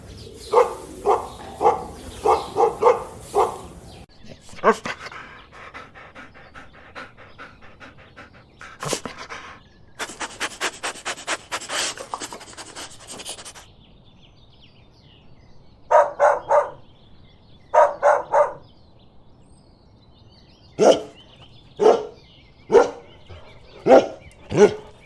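A dog pants rapidly and heavily in bursts, broken by short sharp barks later on. Each bark is loud and close, and the panting comes in quick rhythmic runs of breaths.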